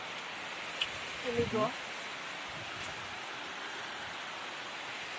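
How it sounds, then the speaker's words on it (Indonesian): Heavy rain pours down steadily outdoors during a fishing trip, a constant dense hiss that fills the whole clip, while someone speaks briefly near the start. "ini hujannya sangat lebat Mas Bro"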